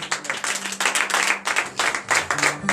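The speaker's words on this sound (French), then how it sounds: "Donnez de vive acclamation." A congregation at a morning prayer service in Benin bursts into rhythmic clapping, with bursts of hand claps and acclaiming voices mixed in, close and fairly loud.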